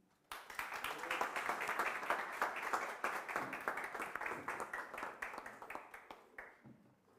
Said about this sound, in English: A round of applause for our speaker, Sevi